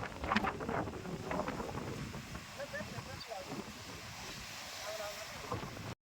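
Ocean waves wash against rocks near a lighthouse at Varkala, Kerala, during a kayak outing, a steady rushing surf mixed with wind buffeting the microphone and voices talking nearby.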